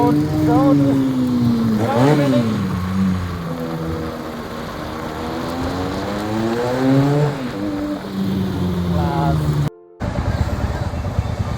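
Several motorcycles on a group ride pull away together, engines revving and rising in pitch close by, with overlapping passes and shifting throttle, plus a brief cut near the end.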